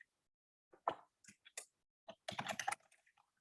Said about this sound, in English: So as somebody's typing it in here